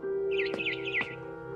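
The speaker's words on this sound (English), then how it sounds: "Then I heard chirping outside my window." A barn swallow chirps outside a window in the game What Remains of Edith Finch, giving a quick run of bright twittering notes over a steady ambient hum.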